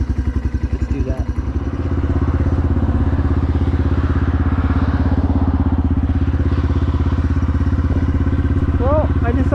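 A motorcycle rides out toward a mountain, its engine a loud steady drone that settles into a constant hum after a brief uneven start, with faint clatter near the end.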